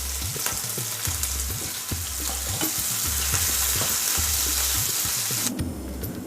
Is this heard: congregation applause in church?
no